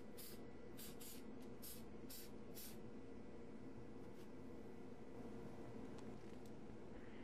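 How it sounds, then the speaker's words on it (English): Several short bursts of mold release spray are aimed at a two-part reusable mold for casting a lobster claw, quick hissing puffs in a row over a constant background hum. "Spray the mold with the mold release."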